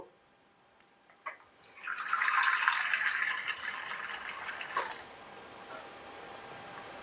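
Water is poured into a pot of cooking country-style chicken, a bright rushing splash that begins with a clatter, runs steadily for a few seconds and stops abruptly, with no voices.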